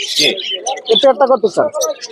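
Birds at a bird market coo and chirp up close, with mixed calls and soft pigeon-like cooing in a busy, uneven stretch while people talk nearby.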